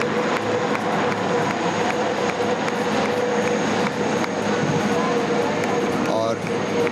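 Aircraft roar steadily and loudly overhead during an aviation flypast at the Pakistan Day parade air show in March 2021, a constant engine drone with a commentator talking over it.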